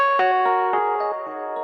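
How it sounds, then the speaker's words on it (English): Mellow Rhodes Mark 1 electric piano notes ring out in a soft chord, with a few gentle attacks and warm sustained tones fading under light reverb. "This is a Rhodes Mark 1."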